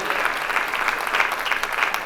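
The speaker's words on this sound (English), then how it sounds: "Can I have a round of applause for all the team members who have worked towards this today?" At a women achievers awards event, an audience applauds the team members, a short burst of steady, fairly loud crowd clapping.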